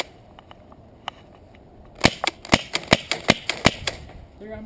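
SG9000 CO2 airsoft shotgun firing into a pipe: a rapid string of about ten sharp, loud cracks in quick succession over roughly two seconds, preceded by a few faint clicks and ending with a low clatter.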